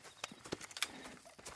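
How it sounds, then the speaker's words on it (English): A big Shire horse's hooves clip-clop in the video game Red Dead Redemption 2, a few quiet, irregular hoof knocks over soft background ambience. "I've been meaning to offload this big Shire horse for a while now."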